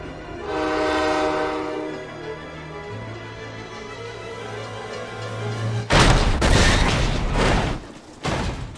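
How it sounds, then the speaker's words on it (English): A train horn blares in long sustained tones alongside rumbling rail noise, then a burst of loud crashing impacts cuts in partway through, part of a Lightning McQueen versus the train clip. "Lightning McQueen versus the train"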